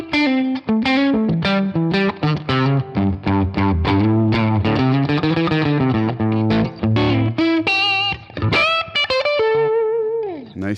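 Single-coil electric guitar through a Fender amp capture from the Amp Vault collection for TONEX, playing rhythmic chords and quick melodic phrases with bends, loud and close, ending in a ringing sustained note.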